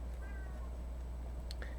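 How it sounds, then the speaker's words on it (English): A house cat meowing from behind a closed door, two short faint calls near the end over a low steady background hum. "my cat is currently yelling at me because he hates it when I lock him out of my room"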